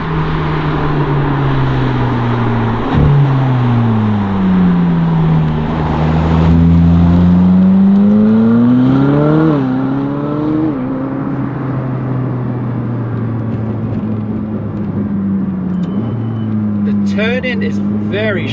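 A Ferrari 458 Speciale accelerates hard through the gears, its engine howl climbing loud and close, then briefly dropping at each shift. A voice talks over it.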